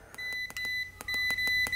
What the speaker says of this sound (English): It gives a L here and beeps slowly, one green light at the top on this STY600Y Kaiweets meter.